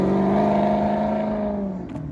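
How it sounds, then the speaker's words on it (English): Maserati GranTurismo V8 exhaust revving: a loud, steady, tonal drone held near the listener, easing down slightly at the end, with no talking. "Some Maserati GranTurismo V8."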